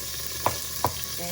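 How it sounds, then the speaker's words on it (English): Olive oil with leftover water sizzles in a pot, a quiet steady hiss broken by two soft knocks, likely from a utensil. "It's sizzling because there's still a little bit of water that I didn't realize I didn't get out."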